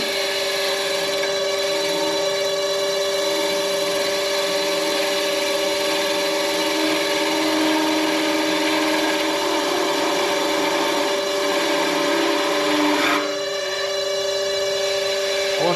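A skew chisel cuts a walnut pepper mill spinning on a lathe, a loud, steady whine with strong tonal hum and continuous scraping, easing briefly near the end.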